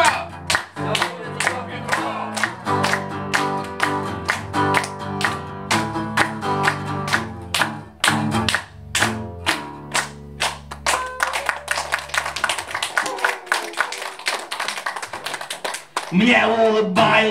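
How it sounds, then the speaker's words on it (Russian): Crowd at a Russian rock concert claps along in rhythm while the band plays and sings, sharp regular hand claps riding over loud music before it breaks off near the end. "Подпеваем! И хлопаем."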